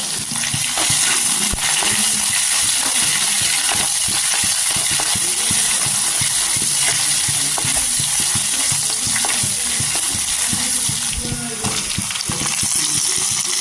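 Crushed ginger, garlic and shallots fry in hot oil in a pan for a fish tamarind curry, giving a steady, loud, dense sizzle with occasional stirring scrapes throughout.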